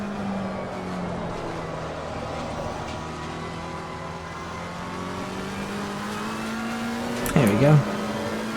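Engine of a McLaren 720S race car in Assetto Corsa Competizione, droning steadily with its pitch sliding down and then climbing as it accelerates, a brief louder burst near the end and someone speaking briefly over it.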